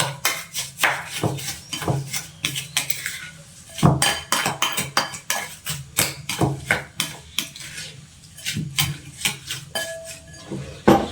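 A utensil stirs and tosses Kelantan-style cabbage pickle with vinegar in a metal pot, giving a busy, uneven run of close clinks, scrapes and clatters that continues throughout without talk.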